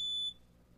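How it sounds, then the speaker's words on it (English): A single short, high-pitched electronic beep from an unidentified device, clear and brief, fading quickly into quiet room tone. "Something's beeping, and I don't know what it is."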